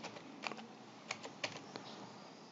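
Quick keystrokes on a computer keyboard, a few sharp clicks in small clusters, close and quiet with no talking.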